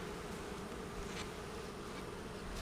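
Honeybees buzzing around a hive ready for a super, with a good drone population, a dense continuous drone filling the air, close and steady with no talk.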